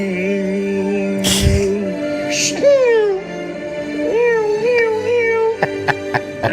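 A man imitates a cat with his voice, producing several drawn-out, wavering meows that rise and fall in pitch. A few sharp clicks and knocks follow near the end.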